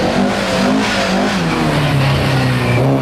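A 2-litre Ford Escort rally car engine revs hard and close, its mid-pitched roar rising and falling steadily through the whole stretch at Lurgan Park with no gaps.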